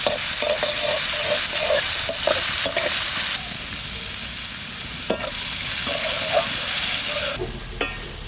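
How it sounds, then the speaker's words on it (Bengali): Onions and garlic paste sizzle loudly in hot oil, a dense continuous hiss near the pan, punctuated by repeated scraping and knocking of a spatula as the mixture is stirred; no talking. "পেঁয়াজ ভাজা হতে হতে রসুন বাটাটাও দিয়ে দিচ্ছি"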